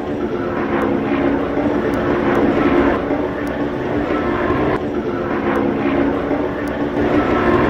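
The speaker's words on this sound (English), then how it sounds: "it grew into this airplane that you see here. That's the Pitts Model 12." Pitts Model 12 aerobatic biplane flying at an air show, its engine giving a steady, loud, sustained drone with gently swelling and fading passes throughout.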